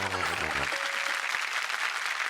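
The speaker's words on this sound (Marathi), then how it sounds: "एकदा जोरदार टाळ्या चुकीचं उत्तर दिल्यामुळे" A studio audience breaks into applause on a Marathi game show, a dense burst of clapping that follows a short tonal sound and continues steadily to the end.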